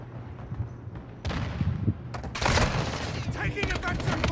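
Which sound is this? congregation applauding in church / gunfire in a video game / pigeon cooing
gunfire in a video game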